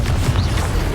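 A Confringo blasting spell explodes in the Hogwarts Legacy video game, a dense, loud low-end boom that rumbles continuously through the whole moment with no voices over it.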